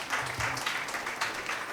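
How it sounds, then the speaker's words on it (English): Audience at a college quiz competition clapping, a brief, moderately faint patter of applause that rises quickly and continues unevenly for a couple of seconds. "Round of applause for them."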